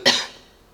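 A single sharp cough, close and fairly loud, with a short trailing decay and no talk.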